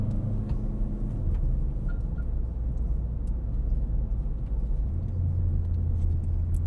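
A car on a summer test drive, its engine sounding weak and lacking pull, gives a steady low drone and road rumble from inside the cabin; the drone's pitch shifts slightly near the end, with no talking.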